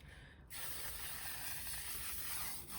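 A can of L'Oreal Infallible setting spray is shaken vigorously, giving a quiet, continuous rattling and swishing for a couple of seconds, close by and without speech.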